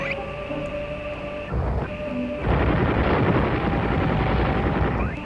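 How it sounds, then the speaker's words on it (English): Gunfire in the Oxenfree video game: a loud burst of dense, crackling noise breaks in partway through and carries on to the end, after a quieter stretch of humming, tonal game ambience. "Gunfire now."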